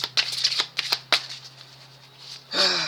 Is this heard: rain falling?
no